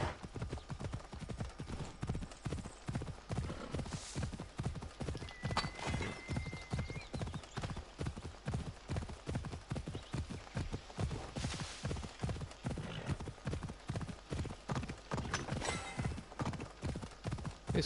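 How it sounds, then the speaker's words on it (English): Galloping horse hooves in the Assassin's Creed Origins video game, a steady rapid clip-clop rhythm running throughout with occasional short whinnies and game ambience, no talk over it. "This horse is fast."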